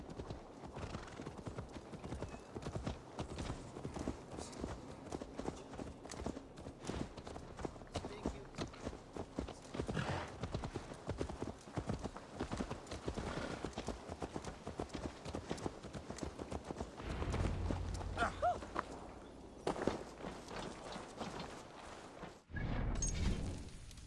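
Horse hooves clip-clopping in the video game Assassin's Creed Valhalla, a rapid continuous rhythm of close hoofbeats with occasional neighs and whinnies, busy and steady before easing off near the end.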